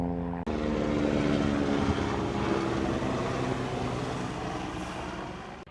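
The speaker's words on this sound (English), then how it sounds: "How's that for a flyover?" A propeller aircraft flies over countryside in the Derbyshire Dales, a loud steady droning engine that fills the whole clip and slowly fades, with no talking.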